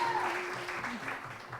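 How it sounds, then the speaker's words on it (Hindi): Studio audience on a TV morning show clapping for a guest, a steady burst of applause with a faint tonal hum and brief host voice underneath. "बहुत सारी तालियां सलमा के लिए"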